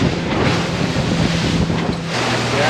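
Strong wind buffets the microphone over rolling sea swell aboard a boat off Miami, a steady loud roar of wind and surf with no talking.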